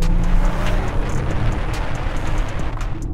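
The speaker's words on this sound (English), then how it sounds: "this particular car has got the sport exhaust, and it makes all sorts of angry noises" Luxury SUV with a sport exhaust in sport mode, a loud, steady, low engine roar close by that holds without pause and has no talk over it.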